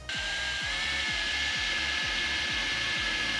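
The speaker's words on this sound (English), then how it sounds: "now I'm gonna drill a hole right there" A power drill whirs steadily, with a regular low rhythmic thumping as the bit bores in, loud and close.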